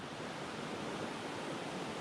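A small waterfall beside a stream at a backcountry campsite in Pisgah National Forest pours in a steady, dense rush, close and constant with no other sounds.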